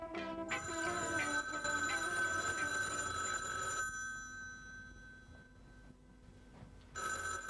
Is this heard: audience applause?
no